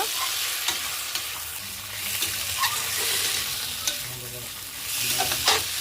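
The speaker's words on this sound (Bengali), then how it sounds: "এখন ভেজে রাখা মাশরুমটা দিয়ে দেবো, আলু দিয়ে দিলাম" Mushrooms and potatoes frying in a spice masala, a steady loud sizzle with intermittent scraping stir strokes throughout, no voices.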